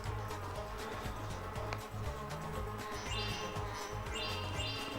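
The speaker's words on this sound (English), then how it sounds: "And a lot of bees." Bees buzz in the video game Spyro Enter the Dragonfly, a steady insect drone mixed with chirpy game effects over a looping melodic soundtrack, with no voices.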